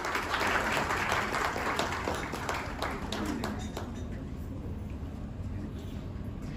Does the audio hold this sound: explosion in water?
no